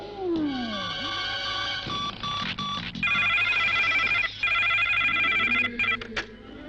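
A telephone rings as a call is placed in a Bangla film scene: bright, repeated electronic ringing tones that start and stop in short bursts, loud and close, mixed with other sound effects and no talk.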